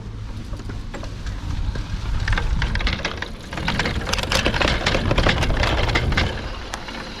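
Fenders on a Kona Dew-E e-bike rattle while it rides through grass in turbo mode, giving a busy stream of clattering ticks and knocks over a rumbling rolling noise that swells and falls throughout.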